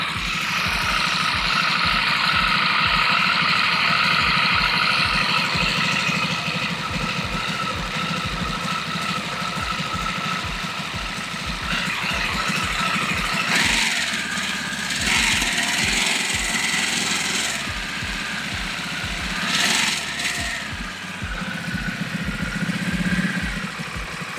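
Harley-Davidson Nightster Special motorcycle engine idling close by, a steady loud rumble with a rapid, uneven pulse and a couple of brief throttle blips.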